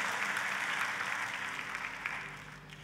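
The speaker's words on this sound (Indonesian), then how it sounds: "Tepuk tangannya pula yang paling meriah buat Tuhan kita" A church congregation claps loudly and continuously in praise during a sermon, a dense, bright wash of hands that fades slightly toward the end.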